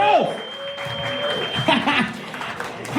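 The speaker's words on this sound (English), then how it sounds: "Start clapping, start clapping," Comedy roast audience clapping at a live show, a steady spread of applause under a loud host's voice with whoops and cheers mixed in.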